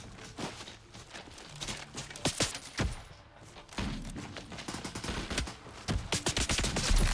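Hip-fired weapon in the shooter game Wraith Ops lets off irregular bursts of gunfire, quick punchy cracks mixed with thuds and footstep-like knocks amid a busy, moderately loud game soundscape.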